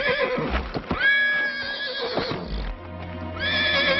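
A mare neighing with loud whinnies, two drawn-out calls with hoof clip-clops in between, close by.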